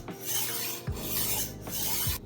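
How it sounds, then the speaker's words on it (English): A knife blade rasping along the coarse side of a handheld knife sharpener: two long gritty strokes, close and loud, with a brief pause between them and no talking. "Take the coarser side and you go 10 times on each side."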